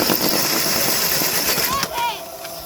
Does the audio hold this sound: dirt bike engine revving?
yes